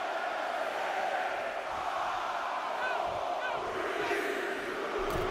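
A virtual arena crowd at a WWE 2K23 Royal Rumble wrestling match roars and cheers in a steady, dense wash of noise, with a few whoops rising out of it and no clear talk.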